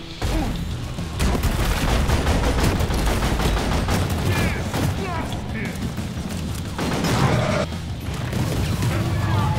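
Dense gunfire in the video game Deep Rock Galactic during a swarm attack: rapid, loud bursts of shots and crashing impacts run continuously, with a player talking over parts of it.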